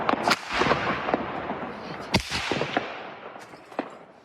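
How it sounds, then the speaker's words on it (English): Gunfire and explosions sound through the night in the Ukrainian capital during the people power revolution, with sharp cracks and bangs at irregular intervals over a steady rumbling background, several of them loud and close, the rest fading further off. "menaced through the night by the sound of constant gunfire and explosions"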